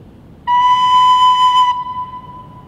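A flute sounds a single clear, sustained high note of about a second, loud and close, which then fades into a quiet room.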